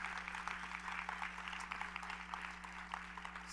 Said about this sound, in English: give a big round of applause to the alumni